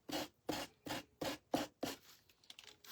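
Sandpaper rubs a wooden tissue box in about six even, rhythmic strokes, close and scratchy, then fades into softer, irregular scraping.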